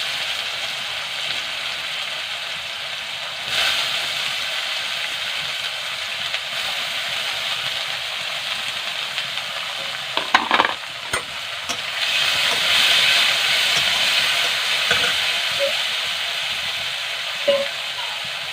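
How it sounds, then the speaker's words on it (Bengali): Chopped onions fry in oil for a Bengali ichor chingri dish, a continuous close sizzle with occasional stirring scrapes and clatters, and no talking. "পেঁয়াজগুলো লাল লাল করে ভেজে নিয়েছি"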